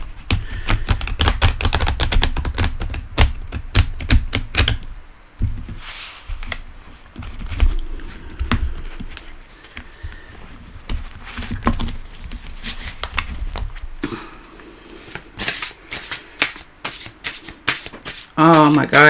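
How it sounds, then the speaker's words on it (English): A deck of tarot cards being fan shuffled in quick, dense papery clatters, with a quieter pause in the middle before the riffling picks up again. "I think I need to fan shuffle again."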